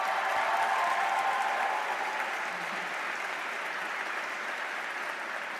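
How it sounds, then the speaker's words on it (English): An audience at a Madrid welcome event for a new class gives a sustained round of applause, steady dense clapping that slowly tapers off, with no speech over it. "big round of applause for our Madrid team"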